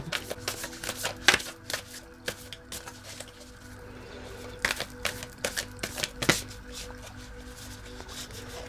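Tarot cards being shuffled: a run of crisp, close riffling flutters and sharp slaps in uneven bursts, fairly quiet, over a faint background hum.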